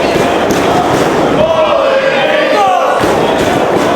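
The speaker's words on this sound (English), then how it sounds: "As the crowd voices their support for Christopher Daniels" A wrestling crowd at a Ring of Honor event cheers and shouts in support of Christopher Daniels, a dense, loud roar with rising voices and a few thuds from the ring throughout.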